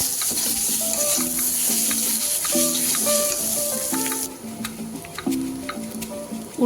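A filling seasoned with turmeric and salt fries in a pan, a moderate sizzle under a steady clinking, tonal background pattern that sounds like music, without speech.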